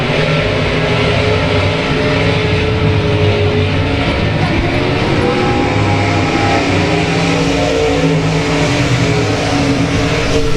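Race cars on the oval at South Texas Speedway roar continuously and loudly, engines droning and revving up close with no letup for the full stretch.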